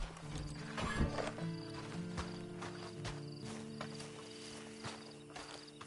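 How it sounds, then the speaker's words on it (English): Horse hooves clop in an irregular walking rhythm over a steady ambient hum, with faint background game sounds, in Red Dead Redemption 2. "Then you better get on this horse."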